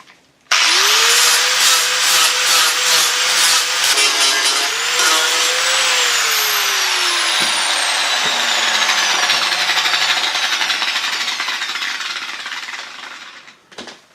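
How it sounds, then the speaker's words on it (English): An angle grinder with a flap wheel spins up sharply and grinds down weld seams on a rear corner body repair of a Daihatsu Charade, loud and close, its whine sagging under load before winding down at the end. "I'll tidy them up now with the flap wheel on the grinder."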